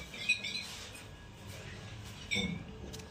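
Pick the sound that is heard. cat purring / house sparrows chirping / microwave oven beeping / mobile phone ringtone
house sparrows chirping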